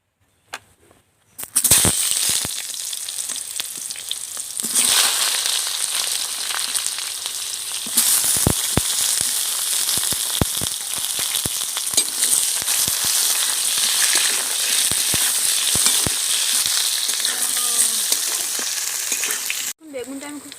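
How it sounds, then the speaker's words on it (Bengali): Eggplant frying in oil already used for frying parshe fish, a loud continuous sizzle and crackle running for about twenty seconds with occasional sharp clinks of stirring, cutting off briefly near the end. "মাছ ভাজার তেলে আমি বেগুনটা ভেজে নেব ভালো করে।"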